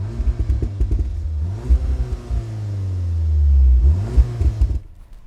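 An Audi S3 engine with an Akrapovic exhaust revs loudly and close, rising in a deep throaty growl, settling, then revving again before cutting off.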